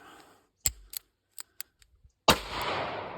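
A revolver fires one loud shot after a few light mechanical clicks of handling, followed by a long decaying echo.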